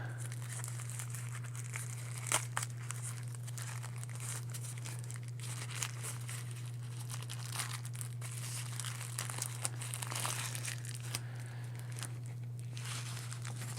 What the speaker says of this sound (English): Now watch me tear this bag all to heck and gone.